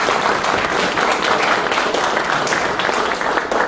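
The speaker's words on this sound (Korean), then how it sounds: "다시 한번 큰 박수 부탁드립니다." A congregation at a church's monthly worship gathering applauds a missionary, producing dense, loud, sustained clapping that fills the space evenly from start to finish with no talk over it.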